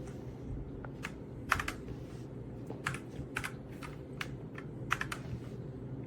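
Keys on a Redragon K668 RGB wired mechanical gaming keyboard with 108 keys clack in irregular, scattered strokes at moderate loudness over a low, steady background hum.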